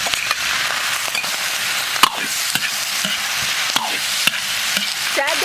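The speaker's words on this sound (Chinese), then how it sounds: "下入葱姜蒜干辣椒，料头炒香，倒入蘑菇，炒一层" Wild mushrooms and pork slices with scallion, ginger, garlic and dried chilies being stir-fried in a wok, a steady close sizzle punctuated by sharp scraping clacks of the spatula against the metal, loud and without speech.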